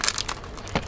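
A plastic packet of dried vegetables from an instant noodle kit is crinkled and crushed in the hand. It makes a few quick, close rustling bursts with no speech.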